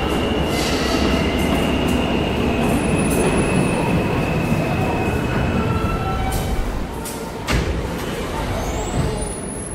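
An R160A G subway train on the IND Crosstown Line in a Roblox game runs loud and close, with a constant rumbling roar, high wheel squeal and a brief tonal whine, and a level drop near the end.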